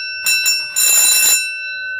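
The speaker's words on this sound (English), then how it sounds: "See, I have that wired up to the alarm bell." An elevator alarm bell wired to an Otis button fixture rings loud and close, with two short rings followed by a longer ring over a steady background tone.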